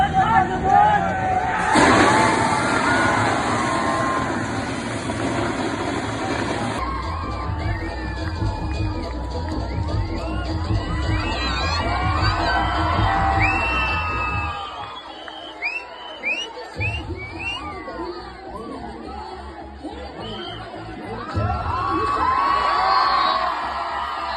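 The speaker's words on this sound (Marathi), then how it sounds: "जोरदार टाळ्या" A loud outdoor crowd at a Dahi Handi celebration cheers, shouts and whoops after a seven-tier human pyramid salute by the Shivsai Govinda troupe, with children's yells and a dense babble of voices that ebbs briefly midway and swells again.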